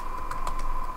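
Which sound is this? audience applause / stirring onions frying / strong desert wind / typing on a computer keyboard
typing on a computer keyboard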